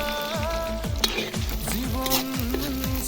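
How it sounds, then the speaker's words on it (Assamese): Onions fry in hot oil with a steady, close sizzle. Underneath, a tonal background with gliding pitches runs throughout, and there are occasional faint clicks. "তেল পকাৰ পাছত ইয়াত পিঁয়াজ ঢালি দিয়া হয়"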